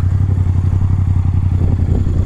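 A modified Yamaha MT-07 motorcycle engine runs nearby with a loud, steady, pulsing rumble, a brief rev lifting near the end.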